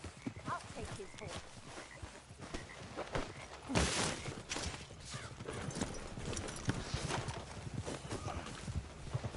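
Horse hooves clip-clop in a steady walking rhythm in Red Dead Redemption 2, with an occasional whinny and a voice talking over them throughout.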